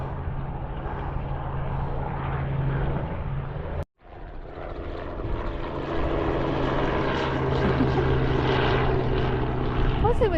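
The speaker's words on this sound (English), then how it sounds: "What's it with these helicopters?" Helicopters fly overhead on a trip along the Cornwall coast, a steady, distant throbbing drone that briefly drops out and then returns. It stays continuous throughout, with occasional voices beneath it.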